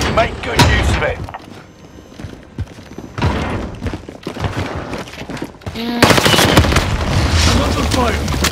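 Heavy gunfire and explosive bursts in a Call of Duty: Modern Warfare firefight, with a stun grenade among loud repeated bangs and rattling shots nearby; a voice speaks over the chaos.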